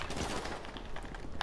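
Rapid gunfire bursts in GTA 5 during the Repossession mission, dense and continuous with a sharper shot near the end, set over busy game sound.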